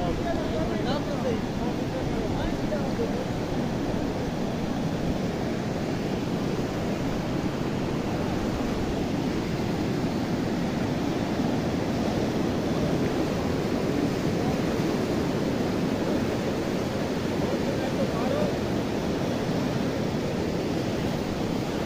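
Rushing water rising at Chapri Dam near Mianwali, a loud, steady broadband roar that fills the whole stretch without a break, heard up close.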